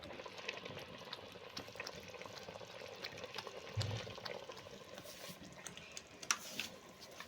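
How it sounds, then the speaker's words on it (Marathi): Faint pouring and bubbling as water goes into a pot of country chicken curry cooking over a wood-fired clay stove, a soft, steady liquid wash with a few small clicks. "पाणी टाकते."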